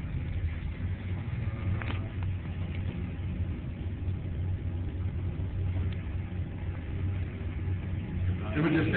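A Lycoming aircraft engine idles during a run-up, a steady low rumbling drone that holds at an even level throughout and swells slightly near the end.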